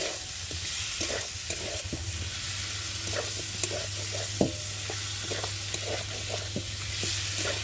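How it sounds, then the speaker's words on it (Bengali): Potatoes stir-fried in a pan with spices and onion paste, a continuous close sizzle with repeated scraping and stirring clicks over a low steady hum. "মশলার সাথে এবার আলুটা ভালোভাবে কষিয়ে নেবো একটু সময় ধরে।"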